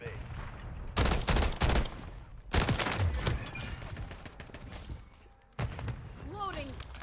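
Call of Duty MW3 gunfire comes in loud bursts of rapid shots with booming impacts, broken by quieter stretches, while in-game radio voices and a player speak around the shooting.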